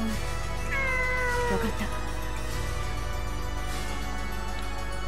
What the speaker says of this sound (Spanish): Me ha seguido el gato.